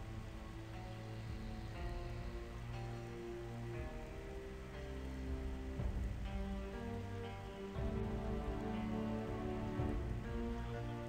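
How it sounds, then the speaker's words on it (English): Steady rain falls in the Project Zomboid video game, a continuous even patter on surfaces, alone with no voices, under a faint tonal background. "It is actually raining now."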